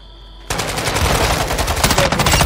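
Loud, close machine-gun fire in a Call of Duty video game at Al Mazrah's Koschei Complex, a rapid unbroken stream of shots bursting in abruptly after a quiet half-second and continuing to the end.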